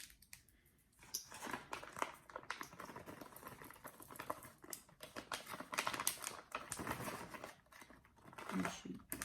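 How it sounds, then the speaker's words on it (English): Scissors snip through julienne-cut smoked sun-dried tomatoes, a quick run of close, crisp clicking cuts with soft rustling that continues steadily with no talking. "So I'm gonna cut these up with scissors."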